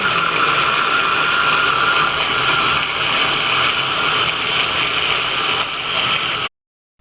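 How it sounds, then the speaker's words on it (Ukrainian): A blender grinds peanuts steadily and loudly for several seconds, a dense, even whirring roar that cuts off abruptly near the end. "Арахіс блендером перемелюю."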